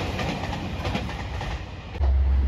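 A JR Shikoku 2600 series diesel limited express railcar passes through Sanuki-Tsuda station with a steady rushing rumble of wheels on rail and a heavy low-end surge near the end.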